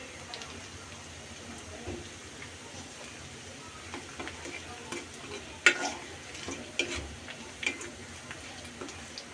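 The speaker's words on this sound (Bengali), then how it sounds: "পেঁয়াজ রসুনটা ব্রাউন কালার হওয়া পর্যন্ত অপেক্ষা করতে হবে দিয়েছি শুকনো লাল মরিচ এবং পাঁচফোড়ন" Onion, garlic, dry red chili and panch phoron fry in oil for a lentil dal, giving a low steady sizzle with scattered ticks, pops and stirring scrapes that grow busier toward the end.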